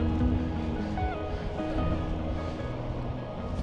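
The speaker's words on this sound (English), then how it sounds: "That's the ocean." Steady ocean surf rolls along the Maharees coast on the Dingle Peninsula, a continuous wash of breaking waves mixed with wind buffeting the microphone, and no distinct voices.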